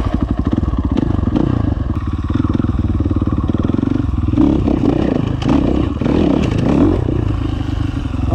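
A 450cc four-stroke dirt bike motorcycle climbs over a log hill, its engine droning loud and close throughout with revving surges, clattering and scraping thuds as it works across the obstacle.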